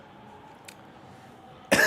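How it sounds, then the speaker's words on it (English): A single sharp cough bursts out close to the microphone at the very end, after a stretch of quiet room tone during an F1 26 sim-racing league session. "Still coughing."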